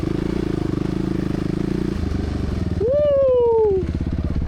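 Suzuki RMX450Z dual-sport motorcycle engine chugging loud and close at a steady low idle-like rhythm, with a brief rising whistle-like tone over it near the end.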